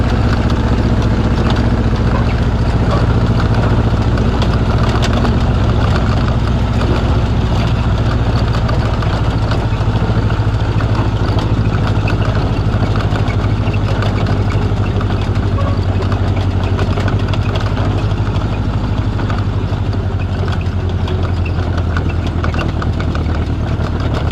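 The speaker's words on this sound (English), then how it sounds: "Driving the 71-year-old Jeep past the newer rigs there." A 71-year-old Jeep M38A1 engine runs with a steady, loud, low rumble that stays even and unbroken for the whole stretch, with no talking over it.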